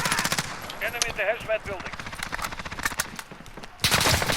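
Rapid automatic gunfire rattles in a Call of Duty: Modern Warfare multiplayer match, dense bursts of shots running throughout and swelling loudly at the end, while a player and in-game voices talk over it.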